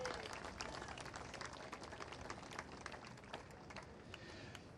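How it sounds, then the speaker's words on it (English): Round of applause for the contractor at the Capital Wheel grand opening, a steady, faint wash of many hands clapping at a distance, with no voices over it. "So how about a little round of applause for Chembro?"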